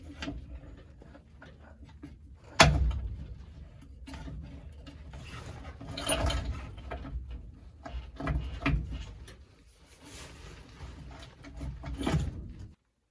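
Mechanical work on the transmission top of a 1956 Dodge H6 truck: intermittent clanks, metallic clicks and ratcheting as bolts are run down, with a sharp knock early, uneven bursts close by, no talk.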